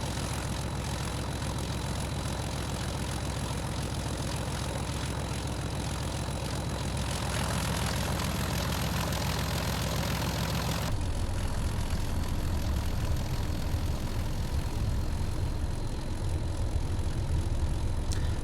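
Class 31 diesel locomotive 31116 in striking infrastructure livery, running in a train simulator on the Cumbrian Coast line between Carnforth and Preston: a steady, loud, continuous low engine drone that shifts in tone partway through.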